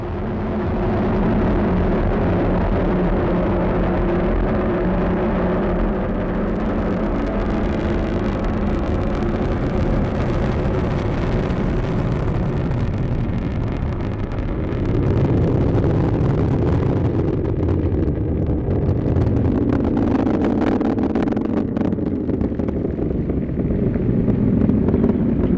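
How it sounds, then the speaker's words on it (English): An Atlas V rocket from United Launch Alliance lifts off carrying a Navy MUOS satellite, a steady broadband roar rumbling on at a distance with wind buffeting the microphone. "we have liftoff of the United Launch Alliance Atlas V rocket"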